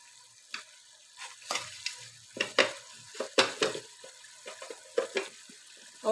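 Whole cumin seeds crackle in hot oil, with irregular sharp sizzling pops and spoon scrapes in short bursts, close-up and moderately loud.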